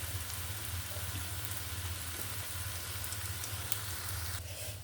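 Grated papaya pakoras frying over a low flame, a dense, steady rain-like crackle of oil that holds evenly throughout at moderate, close volume.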